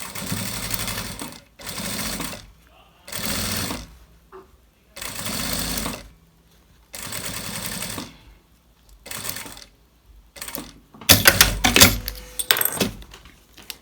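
A sewing machine stitches bias binding onto a piece with a half-centimetre seam allowance, running in repeated bursts of steady whirring separated by short pauses, with clinks and handling clatter near the end.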